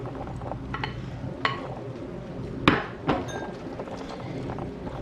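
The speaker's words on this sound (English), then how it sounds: "And now we will add the fried okra." Fried okra is tipped into a masala with yogurt gravy in a pan and mixed, with a couple of sharp metallic clinks and knocks from the spoon over a low background of stirring and light kitchen noise.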